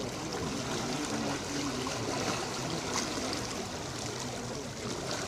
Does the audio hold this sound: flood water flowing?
yes